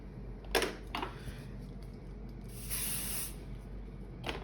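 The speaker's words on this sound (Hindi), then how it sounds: "और इसको भी स्प्रे करेंगे" Hair spray hissing onto back-combed hair while a puff hairstyle is styled, with two short early bursts followed by one longer, steady spray at close range, heard alone without talk.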